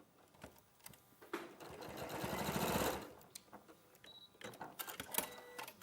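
Sewing machine stitching a fabric seam, one continuous whirring run of about two seconds that swells and then stops, framed by quieter handling clicks and no talk.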